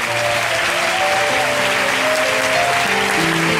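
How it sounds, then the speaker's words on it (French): A church congregation applauds to acclaim the Lord, a loud, steady wash of clapping from many hands with a few faint sung or held tones underneath. "On peut acclamer encore le Seigneur."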